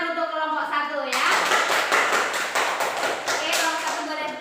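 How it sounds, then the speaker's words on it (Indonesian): A classroom of Indonesian schoolchildren bursts into applause for group 1 after a teacher's spoken lead-in, with a dense, close burst of many small hands clapping steadily for several seconds. "Tepuk tangan untuk kelompok 1 ya."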